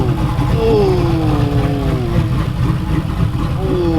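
Turbocharged Camaro engine holding a steady RPM, a loud continuous drone with sliding whine tones and a rough low rumble throughout.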